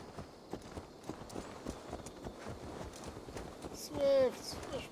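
Horse hooves clip-clop steadily in the video game Assassin's Creed Valhalla, soft and mid-distance, under a busy bed of ambient game sound, with a brief louder tonal cry near the end.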